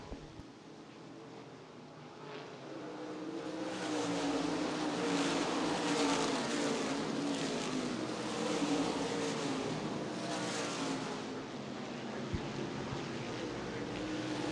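A field of ICAR modified stock cars roars around a banked oval track at the World Stock Car Festival, engines droning steadily and swelling as they pass, with no talk heard.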